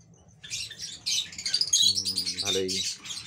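Four baby birds in a nest give rapid, high, thin chirps in short repeated bursts, close and fairly loud, with a brief voice-like murmur partway through.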